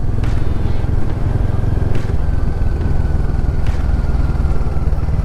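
A Royal Enfield Himalayan 450 motorcycle climbs uphill, its engine producing a loud, steady low rumble throughout with a few faint clattering ticks over the top.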